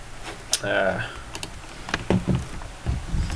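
Light keystrokes on a computer keyboard while logging in to a website, scattered close taps mixed with a voice speaking throughout.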